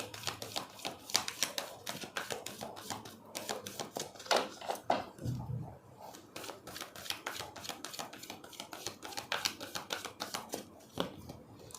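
Tarot cards being shuffled by hand, a rapid run of crisp riffling taps and flicks repeating across the whole stretch, close and fairly soft, with no talking.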